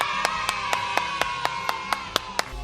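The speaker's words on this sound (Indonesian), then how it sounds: "tepuk tangan dulu dong buat Tuhan Yesus" A steady series of about eleven evenly spaced hand claps, sharp and fairly close, set over a sustained musical backing at a children's Good Friday service.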